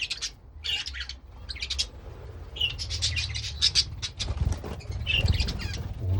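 Bush budgies chirp and twitter in an aviary, with bursts of high, rapid, overlapping calls and squawks from several birds nearby over a low background rumble.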